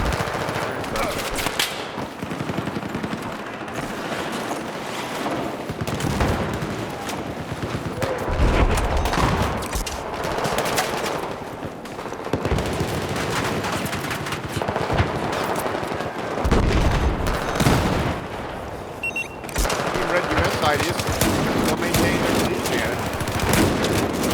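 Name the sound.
shotgun gunfire in a 32v32 video game battle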